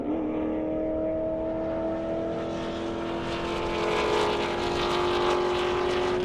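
2007 Chevrolet Corvette blasting down an airstrip at a drag event, heard from a distance: a droning engine note climbs steadily in pitch as the car accelerates away, growing rougher and more spread out, with no voices.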